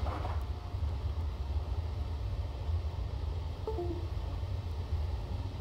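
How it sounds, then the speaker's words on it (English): Class 390 train from a train video game running: a steady, low rumble and drone of the train under way, continuous and even, with a brief faint squeal partway through. "I actually really like the train."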